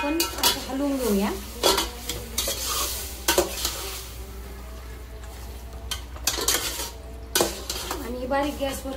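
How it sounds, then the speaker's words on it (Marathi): Spoon scraping and clattering in a hot pot as marinated chicken is stirred in oil, repeated bursts of metal scraping over a soft sizzle. "आता याला आपण हलवून घेऊया"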